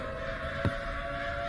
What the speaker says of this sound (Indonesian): Banyak gagak, guys.